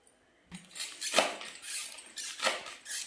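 Fresh amaranth (thotakura) leaves being cut in a kitchen for frying, with a few soft irregular snips and rustles, close and quiet.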